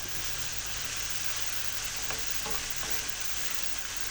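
Bitter gourd (ampalaya) sautéing in a pan, a soft steady sizzle with a few faint stirring scrapes near the middle, quiet and close.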